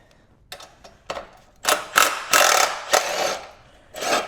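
A socket wrench ratchets on a stuck bolt on a Subaru STI. Short clicking bursts come first, then several louder, longer ratcheting runs sound up close, with pauses between strokes and no speech.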